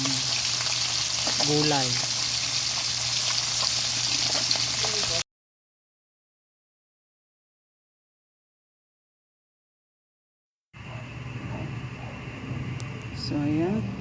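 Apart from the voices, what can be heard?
frying fish in a pan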